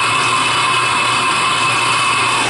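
A CNC mill cutting into a billet, a loud, steady machining whine with a dense, even high tone and continuous cutting noise, unbroken throughout the short span.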